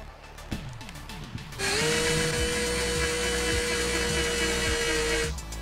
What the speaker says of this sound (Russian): Сверлю отверстием 4 мм.